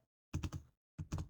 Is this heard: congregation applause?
no